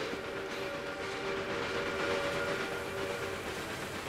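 Train running in the PC railway management game Railway Empire 2, a steady rolling rumble with sustained whistle-like tonal lines holding throughout, moderately loud and uninterrupted, with no voices.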